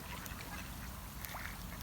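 Faint quacking from ducks at a distance, a few scattered calls over a steady background hiss.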